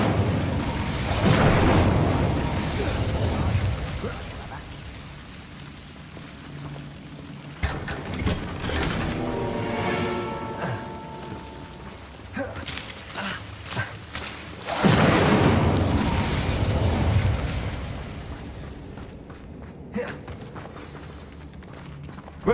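An Incendio fire spell cast in Hogwarts Legacy sounds as a deep whooshing boom that swells and fades, with a second heavy burst later and mechanical clatter in between.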